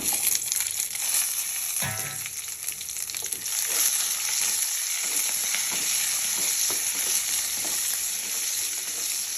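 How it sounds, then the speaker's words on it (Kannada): Ingredients for red chutney roasting in a hot pan, a continuous close sizzle and crackle with occasional stirring scrapes throughout. "ಈಗ ತೆಗೆದುಕೊಂಡಿರುವಂತಹ ಎಲ್ಲ ಪದಾರ್ಥಗಳನ್ನು ನಾನು ಹುರಿಯೋದಕ್ಕೆ ಹಾಕ್ಕೊಳ್ತಾ ಇದ್ದೀನಿ"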